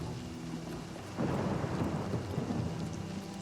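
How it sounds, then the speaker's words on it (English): Steady rain hisses and a low thunder rumble rolls in midway during a thunderstorm in the video game Oblivion Remastered, an ambient wash with no speech. "it's dark and rainy out"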